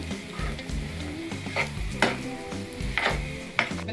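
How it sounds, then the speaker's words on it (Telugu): Dry fruits fry in a pan for laddu, giving a soft steady sizzle broken by repeated scraping strokes of a spoon, several distinct stirs close by in a quiet kitchen. "ఇట్లా వేయించుకోవాలి బాగా పలచబడే వరకు."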